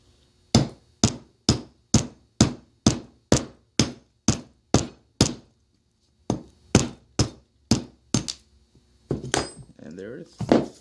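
Hammer striking a punch to drive the trigger pin out of a Hitachi nail gun: a run of about twenty sharp metallic taps at a steady pace, a short pause, then more blows and some handling noise at the end.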